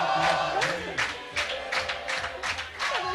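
Spectators at an archery World Cup compound final in Antalya cheer and clap in steady, moderately loud bursts that fill the whole stretch, with no talk over them.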